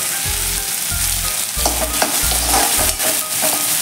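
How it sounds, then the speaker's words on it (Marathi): Onion and tomato sautéing in a pan while being stirred, with a steady sizzle broken by regular scraping strokes of the spoon, close and fairly loud, no voices. "आणि आपला कांदा आणि टॅमॅटो छान असे परतून घेऊया"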